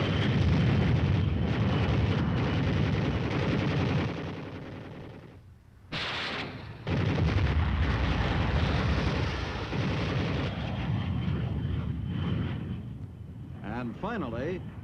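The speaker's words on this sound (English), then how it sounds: "the first flight drops general purpose bombs" General purpose bombs dropped by aircraft on a 1957 armored combat demonstration battlefield, heavy rumbling explosions rolling continuously with a sharper blast midway and someone narrating over them.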